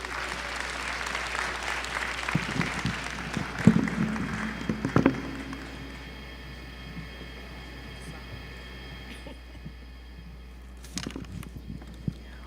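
Audience applause at a white coat ceremony, moderate and scattered at first, with some sharper claps and knocks, then fading to a quiet room with a few isolated noises near the end.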